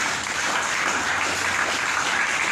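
A church congregation applauding during a French-language sermon: a steady, dense wash of clapping that holds evenly throughout, fairly far off and moderately quiet, with no voices on top.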